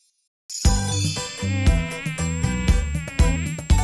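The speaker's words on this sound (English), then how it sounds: "I am a mosquito. I bite and drink." A cartoon mosquito buzz with a high whine comes in over a bouncy children's song, the music loud and rhythmic with chiming accents from start to end.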